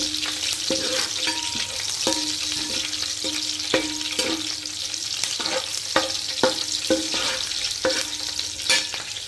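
Green chilies frying in a pan of oil for chicken biryani give a loud, continuous sizzle, broken by repeated stirring knocks of a spoon against the pan, close up and without talk.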